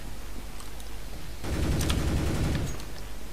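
Rapid gunfire erupts in a CS:GO match right after landing from a jump, a dense, close burst of shots starting about halfway through over a low background hum, then easing off.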